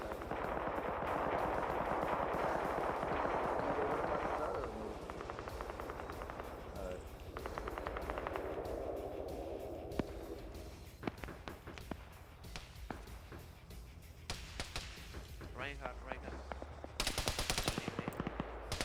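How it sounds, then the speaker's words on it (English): Gunfire in a video game, sustained machine-gun bursts and scattered single shots against a rumbling battlefield din, shifting from dense rattling to sparser cracks; voices talk over it at times. "I assume they're taking fire from the ridge."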